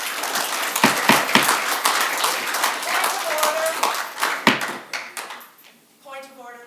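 Audience applause at a Whatcom County Council meeting: a burst of clapping from a crowded room, loud and sustained for several seconds before fading, with a few voices mixed in near the end.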